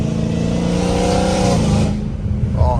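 Loud, close engine roar of a Dodge Hellcat Redeye with catless exhaust revving hard on a street, a steady rising drone for about two seconds before easing off into a rougher, lower rumble.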